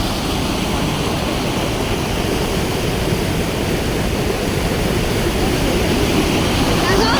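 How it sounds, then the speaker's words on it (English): Smokey Hollow Waterfall on the Bruce Trail in Waterdown, Ontario, a loud, unbroken roar of fast rushing water heard up close, steady from start to finish, with a voice speaking over it. "Now we have come to the closest that we can safely near this waterfall."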